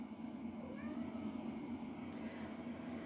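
A pet cat named Izzy meows faintly indoors, a few brief rising cries that sit under a steady background hum and are barely distinct from it.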